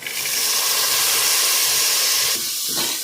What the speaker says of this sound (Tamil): இப்போ நம்ம அலசி வச்சுருக்கிற தட்டைப்பயிறு அதில் சேர்த்துக்கலாம்.